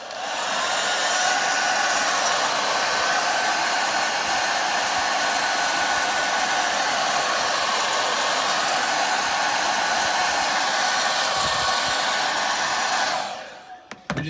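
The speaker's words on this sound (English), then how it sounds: "extra heat from that hairdryer will trigger a response" A hair dryer blows steadily with a loud, constant whooshing hum, then cuts off abruptly near the end.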